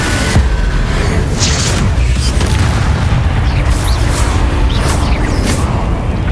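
Spell blasts from Hogwarts Legacy gameplay, the fiery Confringo curse, boom as a dense, loud, continuous burst of explosive rumble with repeated whooshing flares layered over it.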